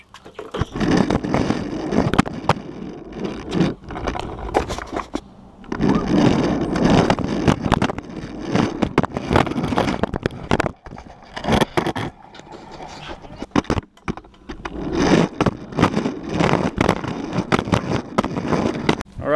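Skateboard rolling with a GoPro camera mounted on it, giving a loud, continuous rumbling scrape of wheels on pavement with gusts of wind noise and brief dips as the board rides along.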